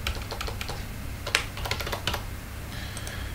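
Keys clatter on a computer keyboard while an email address is typed into an HTML form, a quick irregular run of close, crisp clicks with a slightly louder stroke partway through.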